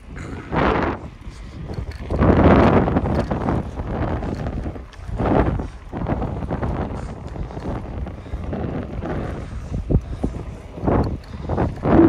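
Coastal wind in Adler on the Black Sea buffeting the microphone in uneven gusts, loud rushing bursts that rise and fall over several seconds with no speech.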